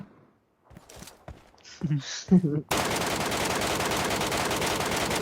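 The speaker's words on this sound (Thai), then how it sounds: "มึงเห็นกูยิงยัง" A few spoken words give way to a sudden, loud, continuous burst of rapid automatic gunfire in a video game that lasts to the end.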